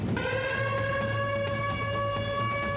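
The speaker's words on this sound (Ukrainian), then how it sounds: "Тільки сирена, ми бачимо, як вони всі в підвал біжуть." Air raid siren during an alert in Poltava, Ukraine: a loud, steady multi-tone wail that holds one pitch throughout, sounding on its own with no voices.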